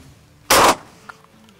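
A single loud, sharp air rifle shot firing a Şerif pellet, a short close crack followed by a faint click and near silence.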